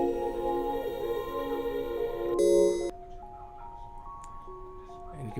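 Synth arpeggio following a scale, processed with halftime and Effectrix effects: a dense sustained chord texture, a brief stuttering glitch burst, then sparse thin notes trailing off, moderately loud with no talk.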